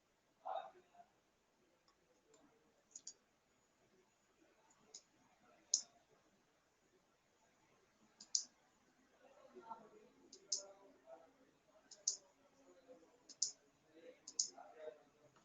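Computer mouse clicks from someone operating clinic management software, a series of sharp, isolated clicks spaced irregularly over several seconds, with faint speech-like murmur between them.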